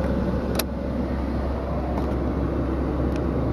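Air conditioning blowing inside a 2015 Suzuki Stingray, a steady, fairly loud broadband whoosh of the blower with faint clicks, continuing without talk.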